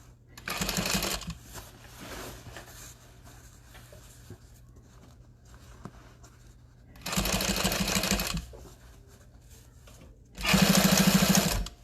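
A sewing machine stitches the straps of an Everyday Tote bag in three loud, steady whirring bursts of about one to two seconds each, separated by quieter stretches of faint handling and room noise.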